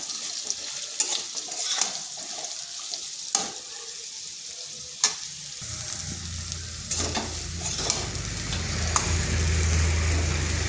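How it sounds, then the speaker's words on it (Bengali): Soaked soybean chunks and potatoes fry in a wok: a spatula clatters and scrapes at first, then a steady hiss of hot oil builds up and holds close by. "সয়াবিনটাও একটু ভাজা ভাজা করে নিচ্ছি।"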